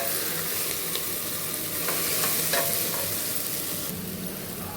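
Sliced onions and green chillies frying in a pan, a steady close sizzle with light stirring scrapes throughout and no talking.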